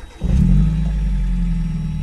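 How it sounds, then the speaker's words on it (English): Mazda Miata engine cranking over and catching, settling into a steady low idle rumble close by after a sudden start, with no talk. "And if the car starts."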